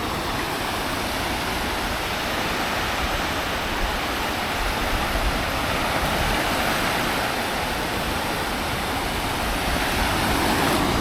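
Ocean waves at a beach in Lyttelton, New Zealand, make a steady, loud broadband wash that rolls on continuously with no distinct breaks and no voices.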